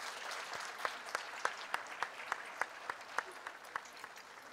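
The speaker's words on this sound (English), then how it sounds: "Let's give them applause." Children and staff at a junior school assembly applaud their MCs, a steady patter of many hands with one or two loud nearby clappers striking sharp, regular beats above the crowd.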